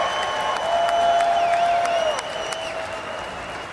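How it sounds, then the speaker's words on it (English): A crowd at a Detroit Lions 2024 NFL Draft party applauds and cheers in a steady, dense burst of claps and voices, with some tonal sound running through it, then fades slightly toward the end. "I'd like all of you to join me in cheering on Justin as his wish comes true."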